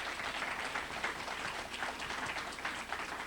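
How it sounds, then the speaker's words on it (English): Steady, faint applause from an audience welcoming a speaker, Ken Cousens, to the stage, sustained dense clapping with no voice over it. "He'd like a warm, nice applause"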